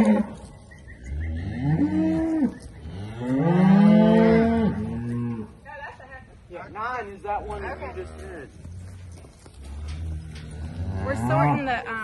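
Cattle moo repeatedly, loud, drawn-out calls from steers and heifers being sorted on a farm, several animals overlapping near and farther off, with some people talking in the background.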